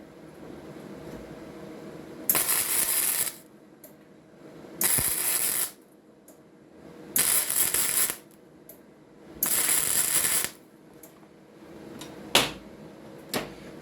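Short bursts of MIG welding on a thin 1.6 mm steel box with the welder set high, four crackling, hissing runs of about a second each separated by pauses, with a few brief ticks near the end.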